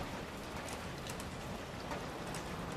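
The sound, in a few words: rain pattering on metal vases in video game Expedition 33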